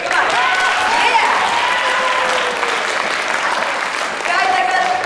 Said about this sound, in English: Applaud, they want to hear it, come on.